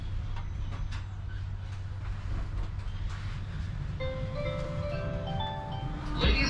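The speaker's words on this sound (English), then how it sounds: "welcome on board the intercity train 562, Zapadni Express" An intercity train rumbles along the rails through Prague with a low steady roar and irregular clacks, then rising squealing tones toward the end.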